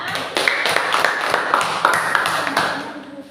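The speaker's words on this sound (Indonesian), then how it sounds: "Kita berikan tepuk semangat ya" A group claps in a fast, steady rhythm for a few seconds, with a few voices audible underneath.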